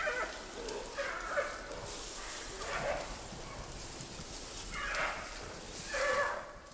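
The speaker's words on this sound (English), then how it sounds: "From the growls, it's obvious the males will have no energy left for fighting, as Lulu does with the females in Wulong." Male giant pandas growl in the forest at Wulong: a handful of short, rough calls rise at irregular intervals over a steady hiss, moderately distant and not very loud.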